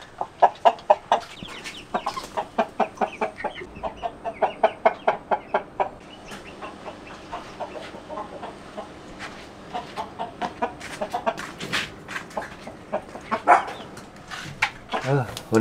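Chickens at a farm clucking in a steady series of close, rhythmic calls, with a dog barking faintly among them and voices talking quietly in the background.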